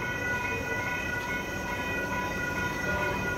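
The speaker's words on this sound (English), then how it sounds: "meg kell várjuk, amíg elmegyen a vonat" Train rolling past a road crossing at the Dole pineapple farm in Hawaii, a continuous rumbling passage with steady tonal ringing, likely crossing bells, held at moderate distance.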